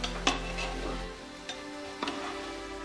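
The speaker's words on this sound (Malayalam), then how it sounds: "ഒരു മിനിറ്റ് ആയിട്ടുണ്ട്, നമുക്ക് ചെറുതായിട്ടൊന്ന് ഇതൊന്ന് ഇളക്കി കൊടുക്കാം." Bread ball snacks fry in a pan and are stirred, with a soft sizzle under a few light scraping and clinking touches of a utensil against the pan, spaced out and close by.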